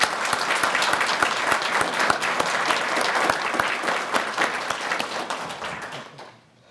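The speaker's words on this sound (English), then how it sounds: "I would like to offer a round of applause and appreciation for both John and Terry" Steady audience applause at a community recognition program, dense clapping with some sharper individual claps standing out, holding level before dying away at the end.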